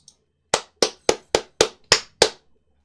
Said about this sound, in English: Am I clapping loud?